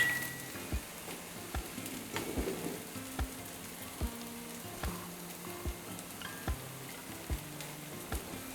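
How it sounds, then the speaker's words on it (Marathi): Cucumber thalipeeth flatbread frying in oil on a pan, giving a steady soft sizzle with regular light clicks and taps throughout, fairly quiet and close, with no voices. "हे छान भाजून घेऊया थोडंसं तेल मी वरून घालते"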